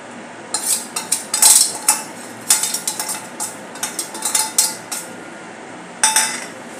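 A metal spoon stirs dry spices into a pot of potato gravy, giving quick repeated clinks and scrapes against the pot in uneven bursts, close by with short pauses, no talking.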